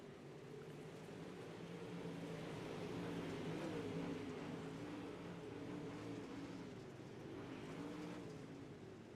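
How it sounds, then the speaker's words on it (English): IMCA modified race cars racing at Lernerville: a steady, layered engine roar from several cars running together, droning at a distance with slight rises and falls in pitch and no voices over it. "they're drag racing down the back straightaway"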